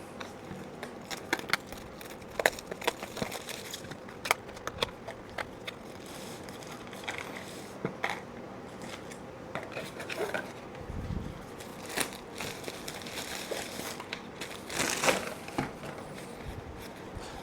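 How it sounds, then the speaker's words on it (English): Packaging for a Comica BooMax wireless lavalier mic kit being opened, with soft crinkling, scraping and tapping of box and wrapping coming in irregular quiet bursts, close up and without speech. "let's unwrap this thing and let's see what we get in the box"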